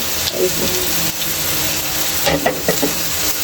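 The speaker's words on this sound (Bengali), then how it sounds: "এবার আমি নেড়ে চেড়ে নিচ্ছি" Spices with ground cumin and salt stirred through sizzling oil for a mustard koi fish curry, a steady broadband fry under a few scraping spoon strokes, close and fairly loud, with no talking.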